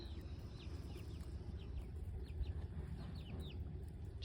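A free-range broody hen with her three-week-old chicks, soft steady clucking and faint high peeping scattered throughout over a low background hum, nobody speaking.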